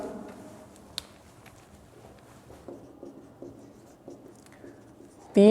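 An equation is written on a board with irregular scratchy strokes and taps, close and moderately quiet, ending in a short louder burst.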